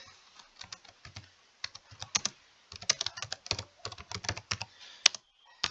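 Rapid clacking of keys on a computer keyboard, bursts of quick typing with short pauses, close up and clear.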